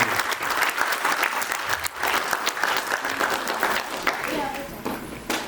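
Strong audience applause for children at an event, with dense, loud clapping sustained throughout, rising and falling slightly in waves, with voices and crowd noise mingled underneath.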